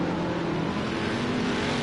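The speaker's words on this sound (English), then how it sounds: "Scott Stoffren still wheeling that car very good here in Kern County." A continuous engine roar from a car running at speed, steady and loud, with a broad rushing noise and no pauses.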